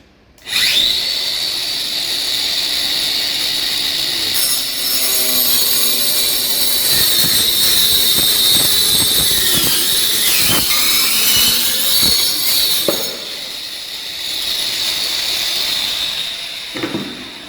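A loud, steady power saw whines continuously as it cuts wood, with scraping and knocking from the work piece, the pitch dipping briefly under load.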